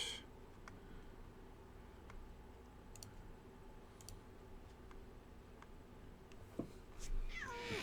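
A cat meows faintly a couple of times near the end, over a quiet room tone with a steady ticking clock-like click repeating about once a second.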